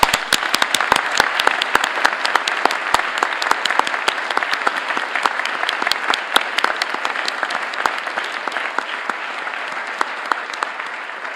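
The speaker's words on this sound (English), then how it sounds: "Graduates, let's show them our appreciation with a big round of applause" A graduation audience at the University of St Andrews applauds in a large hall, sustained, loud, crisp clapping from many hands that continues steadily throughout.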